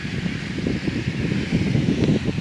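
Steady wind blowing across an open rice field, a soft continuous rush with rustling texture and low rumbling gusts, no voices.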